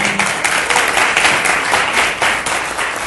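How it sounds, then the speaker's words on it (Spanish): An audience at a sales seminar breaks into sustained applause, a dense crackling wash of many hands clapping at once, loud and filling the room with little talk. "Un aplauso por favor para Vernon."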